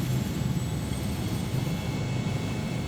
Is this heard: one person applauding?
no